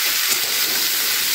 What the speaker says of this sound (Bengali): এটা একটু ভাজা ভাজা করে নিচ্ছি কিছুক্ষণ